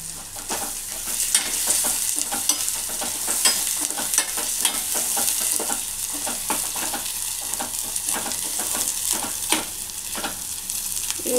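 Turmeric and curry leaves frying in a pan, an even close crackling sizzle with frequent sharp spatula scrapes throughout, no voices.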